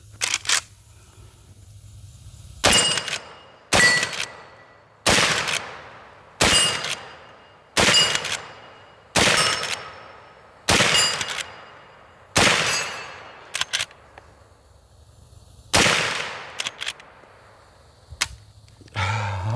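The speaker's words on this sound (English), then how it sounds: "I think some of you guys and girls like to see these guns get fired" A Ruger-made Marlin 1892 lever-action rifle fires .357 Magnum rounds: about a dozen sharp, loud reports, each with a ringing outdoor decay, spaced a second or so apart with brief pauses between.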